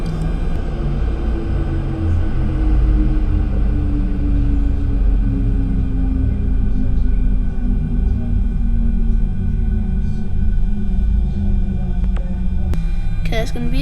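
Boeing 737-800 engine spooling down after shutdown on the ground following landing, a loud low rumble with a slowly falling whine that continues throughout, ending with a couple of clicks and a brief higher-pitched sweep.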